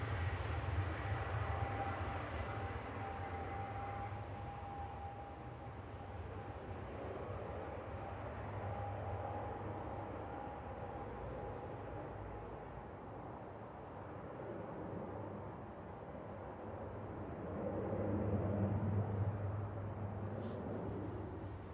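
An Aer Lingus airliner departing Manchester Airport for Dublin, a faint, distant low engine rumble and roar that swells slightly near the end, heard alone.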